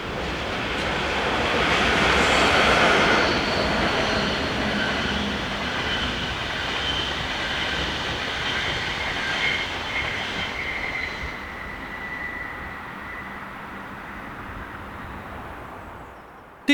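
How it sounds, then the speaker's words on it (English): A Swiss diesel locomotive, number 843088, running light back south on the mainline toward Sargans after dropping cement wagons at Limmattal, passes as a loud, steady broadband rumble with hissing rail noise that eases off toward the end. "Diesel loco number 843088 has dropped its rake of cement wagons off at Limmattal and is seen making its way back south"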